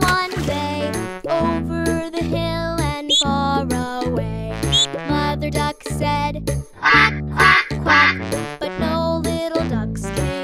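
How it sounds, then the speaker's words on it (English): Cartoon duck quacks set to a bouncy nursery-rhyme tune, with repeated rhythmic quacks over sung music, loud and upfront throughout. "Mother duck said, quack, quack, quack, quack."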